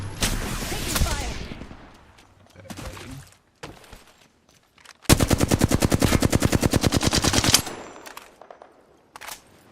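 Rapid automatic gunfire in a sci-fi video game, a dense burst of evenly spaced loud shots after scattered single shots and sound effects.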